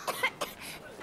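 Joshua, a young man in a Final Fantasy XVI cutscene, coughs in two or three short, close bursts over about a second, with a faint breathy tail afterward.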